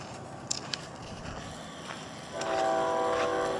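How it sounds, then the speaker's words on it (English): A very long freight train, about a mile long, near Cajon Pass, a steady rumble of rolling railcars with a couple of clanks, then its horn sounds a sustained, fairly distant tone that swells and holds to the end. "That's a long train."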